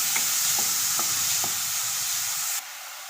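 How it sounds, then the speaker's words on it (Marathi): Finely chopped onions sauté in a pan for a tomato bhaji, with a steady bright sizzle and several light stirring taps from a spoon over about three seconds. "ते आता घालून घेऊया आणि याला गुलाबी रंग येईपर्यंत व्यवस्थित असा परतून घ्यायचा आहे"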